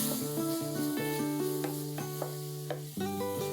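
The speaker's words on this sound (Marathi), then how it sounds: "हे सॉटे करून घेऊया" Ginger, green chilies and coriander sauté in a pan for matar kabab, a quiet continuous sizzle and hiss under steady background music.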